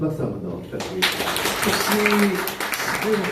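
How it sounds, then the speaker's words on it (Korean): Seminar audience applauding at the close of a lecture, dense clapping spread through the room alongside a voice speaking over it. "다시 한번 큰 박수 한번 더 부탁드리겠습니다."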